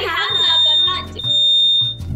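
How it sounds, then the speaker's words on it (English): A smoke alarm beeps in a home, a steady high electronic tone in repeated pulses that run under people talking nearby. "Is that your fire alarm?"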